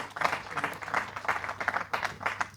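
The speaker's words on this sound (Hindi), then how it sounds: "जोरदार तालियों से आप इनका स्वागत करें" Audience applause greets award recipients stepping onto the stage at a memorial award ceremony, steady clapping rising in bursts across the short stretch, moderately distant with no voices over it.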